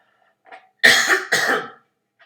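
Two short, harsh coughs close to the mic, preceded by a faint throat sound, then quiet.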